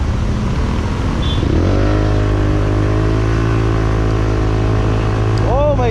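Remapped motorcycle fitted with an aftermarket exhaust pipe accelerates hard, its loud rising engine note climbing steadily and continuously before a brief rev at the end, close by with people talking over it.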